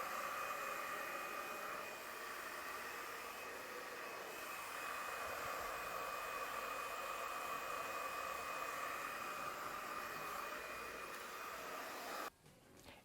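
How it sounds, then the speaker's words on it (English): A hair blow dryer on its cold, low setting runs in a steady, close airy roar during weave styling, holding constant until it cuts off abruptly near the end, leaving a short rustle. "You can just put blow dry on low heat."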